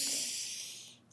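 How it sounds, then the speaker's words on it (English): A slow, deep breath during a calm closing prayer, heard as a soft, airy exhale that fades out over about a second, close and quiet. "I'd like us to take some slow and deep breaths."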